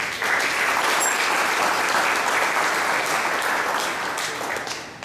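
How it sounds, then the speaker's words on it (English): Steady, full applause from the audience at a Chamber of Commerce mayoral forum, a sustained wash of clapping that tapers slightly toward the end. "I think that deserves another round of applause"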